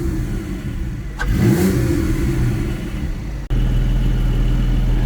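Inside the cabin of a Porsche 718 Spyder with an Akrapovic exhaust and its valves closed, the engine idles, then blips once in a quick rising and falling rev before dropping back to a steady, low idle.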